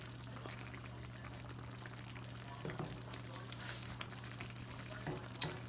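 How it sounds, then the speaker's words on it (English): Sausage and shrimp creole simmering in a pot, a low steady bubbling hiss with a constant hum beneath and a few soft knocks and clinks, no talking. "The longer it simmers, the more it thickens"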